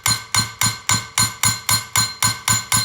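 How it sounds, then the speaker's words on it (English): Rapid, evenly spaced metallic hammer blows on a bolt of a junkyard Ford 302 engine, about ten strikes in a steady rhythm, each a sharp ringing clank, loud and close. "I'm gonna hammer it"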